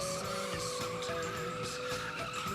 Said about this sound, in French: C'est d'aller très vite en glisse, en faisant le plus de fumée possible.